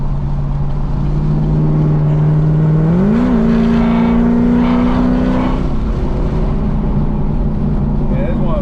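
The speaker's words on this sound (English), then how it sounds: "I hear the supercharger more." Inside a supercharged car running E85 fuel, the engine accelerates loudly with rising revs and a pitch jump at a gear change, a whine riding over the drone, while people talk in the cabin.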